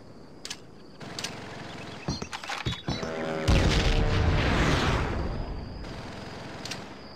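A frag grenade from the Call of Duty: World at War Final Fronts tutorial on PS2 detonates with a loud, rolling blast after a few clicks and thumps, the roar fading slowly over several seconds.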